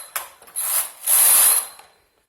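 A domestic knitting machine's carriage is pushed across the needle bed while stitching a lace (jali) pattern, giving two short mechanical rasping, clicking sweeps with brief pauses between them, close by and without speech.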